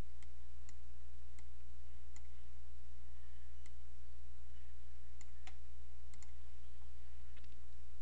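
Computer mouse clicks while editing an animated GIF signature, sparse sharp clicks spaced irregularly over a steady low electrical hum, close and fairly quiet with no talking.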